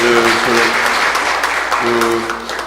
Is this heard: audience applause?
yes